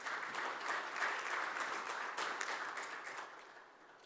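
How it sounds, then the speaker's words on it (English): Sustained applause from a large audience at a construction awards and summit event, a full steady roar of clapping that gradually fades over about four seconds. "Can we have a round of applause for all of them,"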